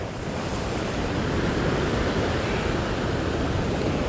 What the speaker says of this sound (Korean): 파도가 너무 세지.